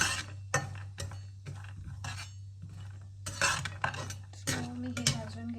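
Peanuts roasting in a pan, stirred with a metal spoon that scrapes and clinks against the pan in quick irregular bursts over a low steady hum, close and fairly loud, no voices.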